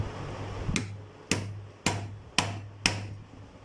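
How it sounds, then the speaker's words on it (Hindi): A hammer lightly taps a bearing into place on a ceiling fan: five crisp metallic taps, evenly spaced and close, over a steady low hum. "उसको उसके ऊपर रख के हथौड़ी से हल्की हल्की आपने चोट लगानी है"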